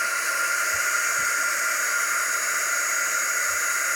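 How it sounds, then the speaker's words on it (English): A handheld craft heat tool blows hot air over a home décor crafting project in a steady, even hiss at close range, with a few soft bumps underneath. "Just keep moving your heat tool around"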